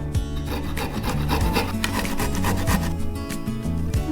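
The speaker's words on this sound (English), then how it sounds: "We need to grate the ginger now." Fresh ginger root being grated for Ghugni, a steady run of close, loud rasping scrapes against the grater teeth, repeated strokes without pause and no talking.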